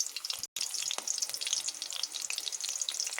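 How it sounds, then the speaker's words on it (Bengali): Chillies and nigella seeds sizzling in hot oil, a close, dense crackle and spatter with sharp pops that keeps going after a brief dropout near the start. "এবার আমি কয়েকটি লঙ্কা ফোড়ন দেব ও কালো জিরে দেব।"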